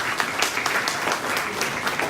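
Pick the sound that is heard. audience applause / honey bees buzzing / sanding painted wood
audience applause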